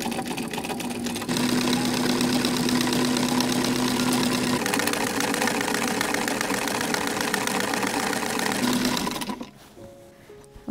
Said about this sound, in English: So now we're ready to go ahead and sew this in.